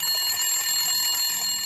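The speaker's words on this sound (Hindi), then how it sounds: "टेलीफोन की घंटी बजना शुरू हुई।" A telephone bell rings in a continuous, steady metallic trill, fairly loud and close, sounding alone with no voices over it.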